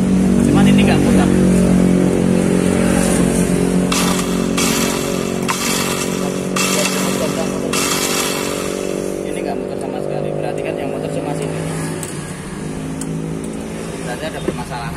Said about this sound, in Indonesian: Jadi kalau starter itu suaranya ada. Cuman ini enggak putar.